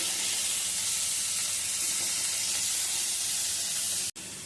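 Vegetables seasoned with salt and turmeric sizzle in a hot pan while being mixed, a steady, close hiss of frying that holds throughout with a momentary break near the end.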